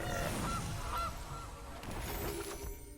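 Gilded Goose card in MTG Arena letting out a couple of quick goose honks, close and bright, over light game sounds with no talk.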